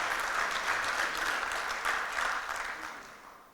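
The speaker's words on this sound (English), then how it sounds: "And I think he should be applauded for that." An audience claps for a speaker at a talk event. Dense, sustained applause comes in waves at a moderate distance and gradually fades toward the end.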